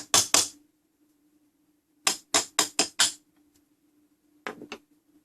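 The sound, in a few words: small hammers tapping during ship's clock fusee repair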